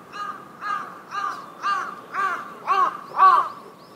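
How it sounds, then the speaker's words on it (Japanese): A crow caws seven times in a steady rhythm at the Yubari station ruins in Hokkaido, Japan, harsh and clear, each call a bit louder than the last. "カラスがめちゃくちゃ元気です。"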